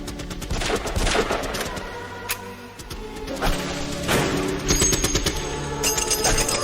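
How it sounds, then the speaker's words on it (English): Gunfire in the Doctor Who series 3 episode The Family of Blood: rapid, repeated volleys of shots and heavy thuds crack through a dense, busy mix, loud and sustained throughout. "at least the bullets seem to work"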